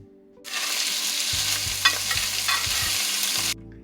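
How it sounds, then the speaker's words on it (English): Garlic butter steak in a frying pan gives a sudden loud, steady sizzle that cuts in, holds with brief stirring crackles, then stops abruptly, close up with no talking. "that's the sizzle that you want to hear"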